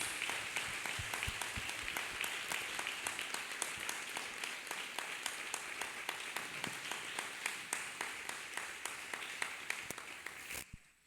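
A church congregation at a testimony service claps hands together in a continuous rhythmic beat, a dense wash of many hands pulsing steadily for around ten seconds at moderate distance, then stopping abruptly.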